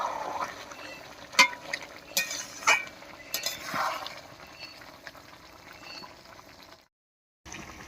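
Country chicken curry with papaya in a spiced ground-masala gravy being stirred and cooked down in a pot, with soft scraping clinks of a spoon against metal over a low simmering bubble, quiet and close, no talking.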